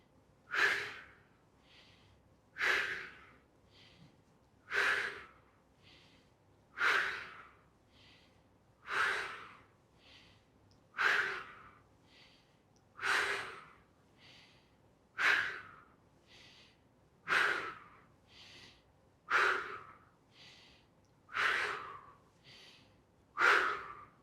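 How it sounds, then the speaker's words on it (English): Slow, paced breathing, in through the nose and out through the mouth during a relaxation exercise, with about a dozen soft, evenly spaced breath cycles rising and fading, close and quiet. "go ahead and breathe in through your nose and out through your mouth."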